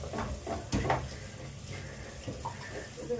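Onions with ginger garlic paste sauté in a pan for a chicken dish, giving a steady low sizzle with a few short clatters near the start.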